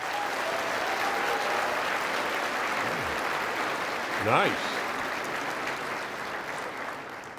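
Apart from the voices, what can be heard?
audience clapping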